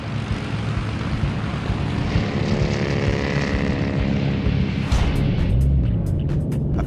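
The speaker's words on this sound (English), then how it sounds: "A wave of bombers from both Enterprise and USS Franklin buzzes in, determined to put Musashi beneath the waves." WWII carrier bombers from the USS Enterprise and USS Franklin fly in over Leyte Gulf, a loud, steady propeller-engine drone that swells with rising harmonic tones before sharp bursts break in near the end.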